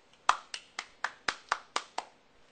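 Nine quiet, evenly spaced handclaps follow one another at a slow, steady pace, like a single person applauding in an otherwise silent room.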